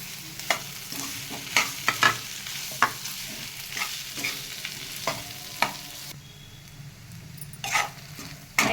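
Boiled potato being stirred into green chillies frying in a pan, with scattered scraping stir strokes over a light steady sizzle, no voices.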